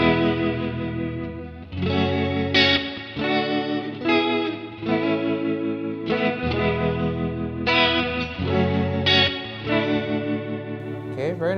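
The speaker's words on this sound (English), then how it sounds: "the level is probably how loud the rotary is" An electric guitar played through the rotary modulation effect on an IK Multimedia Tonex One sounds as loud, sustained chords with a swirling, wavering shimmer, changing every second or so over about eleven seconds.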